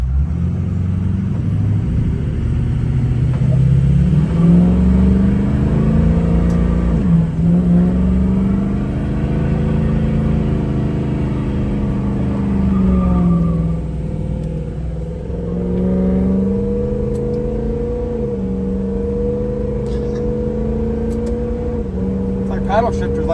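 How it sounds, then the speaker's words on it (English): Ford 6.0 Power Stroke diesel truck engine revving hard for a burnout attempt, a loud sustained roar that rises and falls in pitch over the whole stretch. "I guess we could try to see if it does a burnout now."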